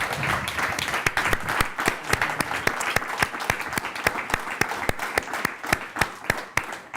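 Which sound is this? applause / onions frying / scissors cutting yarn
applause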